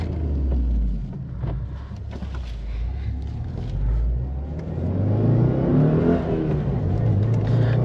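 A used 2021 Subaru WRX Premium with a 6-speed manual gearbox accelerating on the road, heard from inside the cabin as a steady low engine drone that rises in pitch and loudness toward the end, with someone talking over it.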